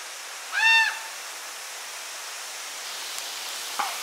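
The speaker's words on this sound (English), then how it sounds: "Noisy raven." A raven gives a single short, harsh call near Amnicon Falls in Wisconsin, heard once over the steady rush of falling water. A faint click follows later.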